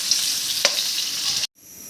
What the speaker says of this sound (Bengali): ঘি দিয়ে ভাজা হয়ে গেল, আর সাথে এলাচ ছিল